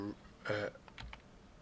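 A few quick computer keyboard key presses, close and fairly quiet, with one brief burst of clatter followed by two or three lighter taps.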